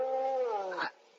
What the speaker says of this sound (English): Oh, that was just a dog, Dora.